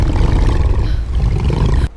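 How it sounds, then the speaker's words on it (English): A loud, deep, continuous waterfall roar rumbles steadily, then cuts off abruptly at the end. "A deafening roar echoed ahead, far louder than the rapids they were riding."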